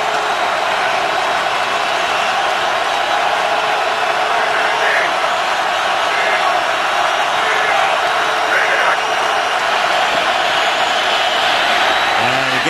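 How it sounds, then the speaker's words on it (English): A stadium crowd at a 2011 NFL game between the Jets and Ravens swells on third down and ten, a dense, loud, continuous roar filling the whole stretch with indistinct voices mixed in. "Crowd rising."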